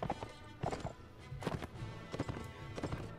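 Cavalry horses in Mount and Blade Warband clip-clop in uneven bursts of hoofbeats, several horses moving at once, fairly close and clear with no talking.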